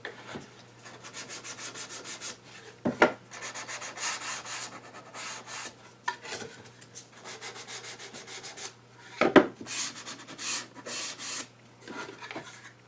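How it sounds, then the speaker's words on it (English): Sandpaper rubbed by hand across a shellac finish on a cherry wood box, steady close scratchy back-and-forth strokes in a loose rhythm, with a couple of louder knocks between passes. "just move the sandpaper across the surface, and the dust layer tells you when you're done."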